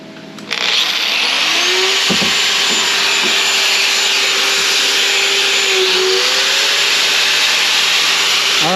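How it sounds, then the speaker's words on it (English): Battery-powered electric router running from a 12V 100Ah LiFePO4 lithium battery, spinning up after half a second into a steady, loud high-pitched whine that holds throughout with faint shifts in load. "So we're busting out the router."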